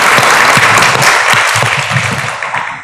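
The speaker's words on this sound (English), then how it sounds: "we should take a minute to just give them all a round of applause" Conference audience breaks into sustained applause, dense clapping filling the room at steady loudness for a few seconds with no talk over it.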